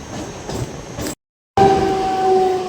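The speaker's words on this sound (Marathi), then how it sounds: "बघा आपल्या ट्रेनचं कर्व" A Mumbai local train runs near Nerul station, rumbling loud and close. The sound cuts out for a moment, then returns with a steady tonal wheel squeal as the train takes a curve.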